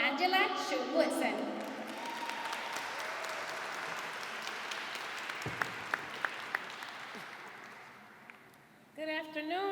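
An audience at a Puerto Rican flag-raising ceremony applauds to welcome a speaker. Moderate, fairly distant clapping opens with an announcer's voice, tapers into a few isolated claps and then fades, and someone begins speaking at the close.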